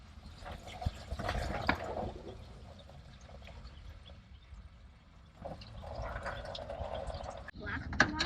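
Engine coolant from an 07 Suburban draining into a pan below, a gurgling, splashing trickle that rises and falls in two bursts, with voices heard over parts of it.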